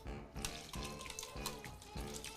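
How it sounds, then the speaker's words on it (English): Water is poured over chicken wings and a tea bag to make a brine, a steady close splashing gush with rhythmic surges, no speech. "we're gonna take the water, and we're just gonna pour it over the top of all of it"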